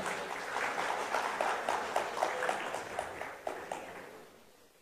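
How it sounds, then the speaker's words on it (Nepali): Light, scattered clapping from a small crowd, a few seconds of applause that gradually fades away. "उहाँलाई जोरदार तालीका साथ स्वागत गरौँ"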